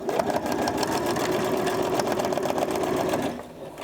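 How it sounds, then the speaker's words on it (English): A sewing machine runs steadily on a permanent stitch while flattening a seam on regalia, with a dense continuous whir lasting about three seconds before it slows and quiets near the end. "and sew it flat. Making sure it's on my permanent stitch."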